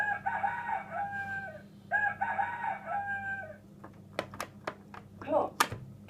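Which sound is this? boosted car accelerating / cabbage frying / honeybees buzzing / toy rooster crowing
toy rooster crowing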